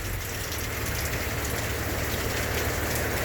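Heavy rain pours steadily during stormy weather at a Myrtle Beach campground, a dense, continuous hiss of drops drumming on surfaces close by, with no voices.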